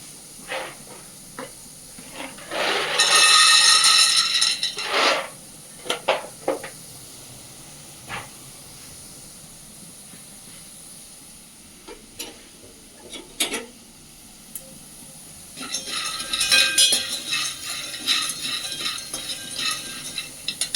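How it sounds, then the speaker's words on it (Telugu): Peanuts dry-roast in a pan for chutney, giving off intermittent bursts of rattling and hissing with quiet stretches between, close and fairly loud. "ఇంట్లో పల్లీలు వేయించుదాం చట్నీ కోసం"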